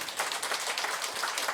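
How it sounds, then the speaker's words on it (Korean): An audience at a regular Buddhist temple dharma service claps steadily, a dense, even patter of many hands that holds for the whole moment without any voices. "박수 한번 쳐주세요"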